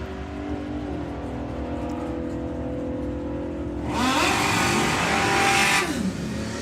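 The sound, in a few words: drag racing pickup truck and small dragster launching down strip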